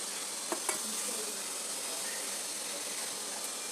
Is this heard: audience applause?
no